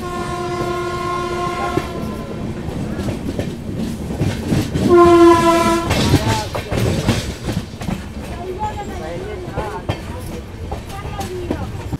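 The 12428 Rewa superfast express arrives at Dabhaura railway station in Rewa district, Madhya Pradesh, on a rainy day. Two loud, sustained horn blasts sound over a rumbling, clattering train passing close by.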